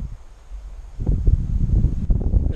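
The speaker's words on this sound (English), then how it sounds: "There's a nice gust of wind." A gust of wind picks up outdoors, buffeting the microphone with low rumbling bursts that swell after a quiet start and keep rushing and flapping unevenly, close and loud, with no talk.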